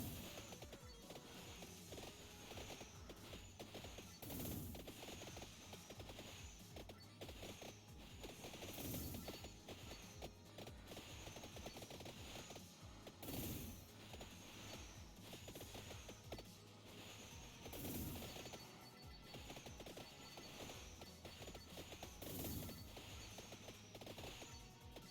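In the video game Vampire Survivors, bursts of fireworks crackle and pop about every four to five seconds over a dense, continuous layer of game effects. The mix stays busy and moderately loud throughout.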